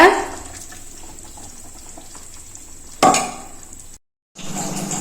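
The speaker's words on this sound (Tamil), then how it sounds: "தேவைக்கேற்ற தண்ணி ஊற்றிட்டேங்க" Water is poured into a hot cooking pan of bitter gourd curry in two short hissing splashes, then a steady simmering hiss, close by.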